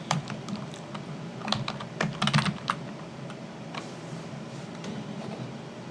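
Typing on a computer keyboard during coding work, with quick bursts of clicking keystrokes close by over a quiet room hum and short pauses between clusters, with no talking.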